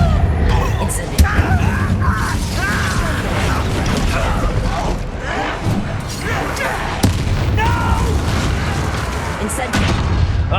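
A fire spell cast in Hogwarts Legacy gameplay: bursts of flame and magical impacts crackle and boom amid busy clattering mechanisms, loud and close, with a voice calling out spells over the action.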